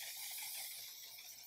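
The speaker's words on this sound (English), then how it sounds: "I'm going to go in with a dry setting spray" A short, soft hiss of fine mist from a dry mattifying setting spray sprays steadily for about a second and a half, close by.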